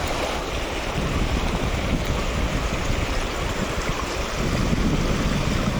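Continuous loud rush of a wide river in Tiro, a steady broad roar with wind buffeting the microphone and no voices.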